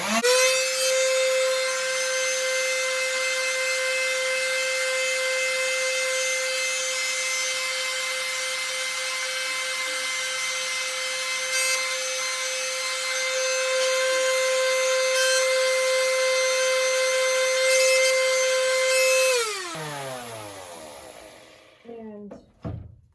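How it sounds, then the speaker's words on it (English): A power tool sanding the end of a wooden yardstick, a steady high whine of the motor running continuously for nearly twenty seconds before spinning down with a falling pitch, then a few brief clatters. "This one I'm going to have to sand a little bit more because it's like a 1/16 of an inch too long."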